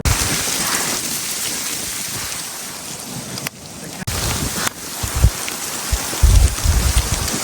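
A heavy storm lashes the Indus River in northern Pakistan with wind and dust, a loud, steady roar of rain and gusts, punctuated near the end by deep, close rumbling thumps.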